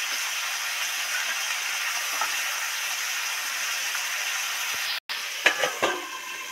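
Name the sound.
green chillies deep frying in oil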